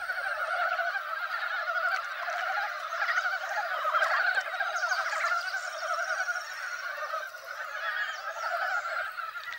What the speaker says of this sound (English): these Far Eastern frogs are unique to Ussuriland